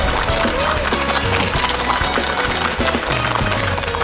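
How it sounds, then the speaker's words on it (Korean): Studio audience applauding at a televised talk show lecture on Korean fortune-telling, steady dense clapping throughout with no pause, fairly loud and close. "특강을 박수로 청해 주십시오."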